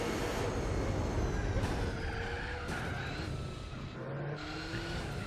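Race cars in Gran Turismo 4 skid with screeching tires and roaring engines, a continuous loud, close blur of squeal and motor noise with no talking.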